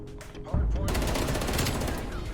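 Rapid automatic gunfire from the video game Black Ops Cold War erupts after a brief murmur and continues as a loud, sustained, densely repeating burst.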